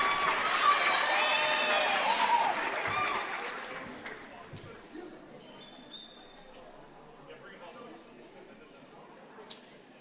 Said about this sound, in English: One more time, a big round of applause for Eileen